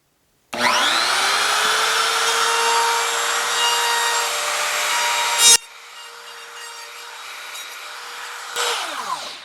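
A router plunges into a surfboard to cut the recess for a fin box, a loud steady whine and grinding close up that shifts pitch partway through before the motor winds down, with no voices.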